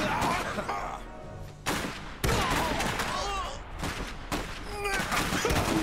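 Gunfire from infantry units in the real-time strategy game Iron Harvest, with bursts of rifle and machine-gun shots and sharp impacts rattling through a busy battle mix, the volume rising and falling across the stretch, with speech-like sounds woven in.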